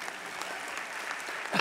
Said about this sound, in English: where's the overwhelming applause for that brilliant idea of mine?